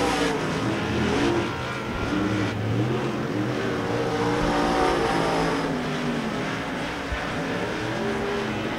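Race cars roar around Devil's Bowl Speedway during a heat race, a continuous loud wall of engine noise with rising and falling revs as the pack runs close together.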